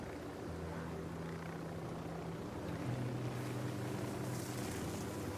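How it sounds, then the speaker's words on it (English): Helicopter approaching in the Ghost Recon Wildlands video game, a steady low rotor drone and engine whine that grows slightly louder midway, continuous with no talk. "Chopper incoming."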